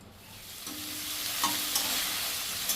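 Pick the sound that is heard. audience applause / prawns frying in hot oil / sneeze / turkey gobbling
prawns frying in hot oil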